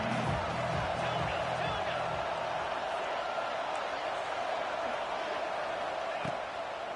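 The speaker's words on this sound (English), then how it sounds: "This crowd rising up, sensing that its defense needs some help." Stadium crowd at a football game roars steadily as the defense faces a third down, a dense continuous wall of cheering with no clear breaks throughout.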